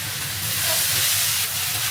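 Hot white vinegar poured along the edge of a wok over shredded potatoes with green pepper strips, giving a steady, loud, close hiss and sizzle that holds for the whole moment with no voices.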